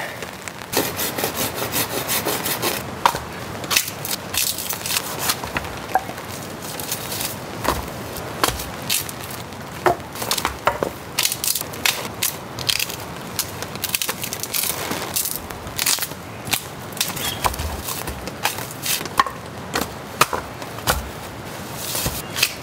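Continuous rasping of a saw cutting through hard wood, with gritty, uneven strokes and occasional sharper cracks, close up and with no talking.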